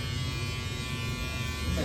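Steady close-up buzzing of an electric shaver running continuously with no breaks, loud and even throughout.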